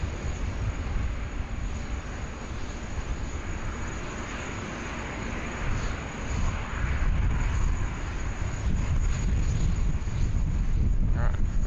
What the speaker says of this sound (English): Our next arrival there. Another Jetstar 320 there, coming on the IKEA one.